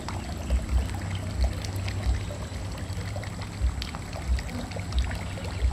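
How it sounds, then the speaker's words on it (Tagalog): An aerator churns water in a tilapia pond, giving a steady low rushing splash with soft rhythmic surges about once a second, continuous and moderately close, with no talk. "Ayan yung ating aerator kahit pakunti-kunti lang yan. Yung tubig gumagalaw."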